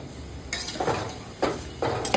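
Cubed raw papaya pieces drop into a pot of boiling red lentils, a few distinct splashy plops and clinks spaced about a second apart, close and moderately loud.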